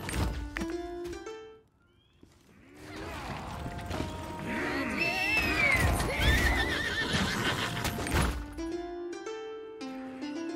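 A horse in the video game Lost Ark neighs loudly with a long whinny, alongside clip-clop hoofbeats, thuds and game music tones, mostly without talk.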